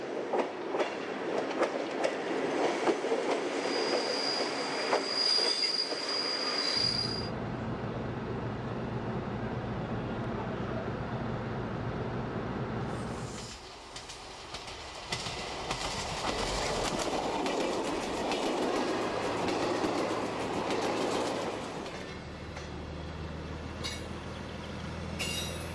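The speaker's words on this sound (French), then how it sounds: "La gare de bifurcation de Lacluse, avec des trains qui s'élancent dans trois directions" Trains roll through the Lacluse railway junction station, a steady clattering rumble of wagons over track joints, with a high thin wheel squeal early on and a deeper engine drone later, all fairly close.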